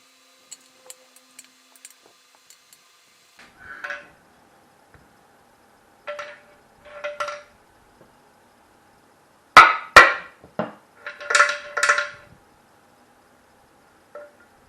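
Hex bolts (5 mm) being tightened crosswise on a Minarelli engine case closed up with a TPR86 kit crankshaft: scattered close metallic clicks and clanks in short bursts, with quiet gaps between them.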